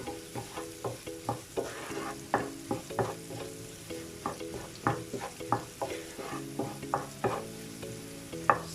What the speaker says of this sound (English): So the onions is frying nicely.